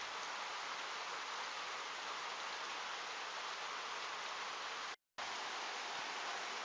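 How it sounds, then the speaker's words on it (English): Heavy rain at a mountain site in Lanka, a dense, steady hiss of downpour at constant loudness, broken by one brief moment of silence near the end. "we hit bad rain here."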